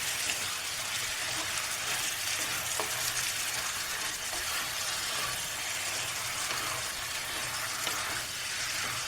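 Pallipalayam chicken sizzles hard in a pan over high flame while being stirred, a loud, dense, continuous frying hiss like heavy rain, close and steady throughout.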